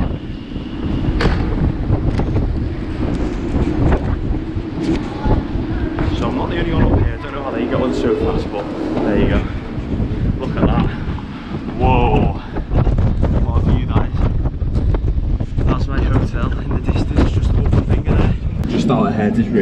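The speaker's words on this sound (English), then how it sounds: "apologies for your ears that are about to get destroyed by this wind." Strong wind in Iceland buffeting the microphone, loud continuous roaring gusts throughout with a voice talking intermittently underneath.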